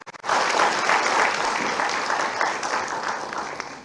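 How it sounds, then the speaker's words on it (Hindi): A crowd at an Uttarakhand government event with Chief Minister Pushkar Singh Dhami breaks into loud, sustained clapping for education minister Dhan Singh, starting abruptly and holding steady before easing slightly. "धन सिंह जी, एक बार ताली बजाइए।"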